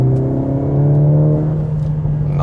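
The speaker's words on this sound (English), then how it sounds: "And let's put to Sports Plus mode here and let's floor it out." A Mercedes-AMG GLA 45 S four-cylinder engine in Sport Plus mode is floored, giving a loud, steady, rising engine note that is heard from inside the car with no talking.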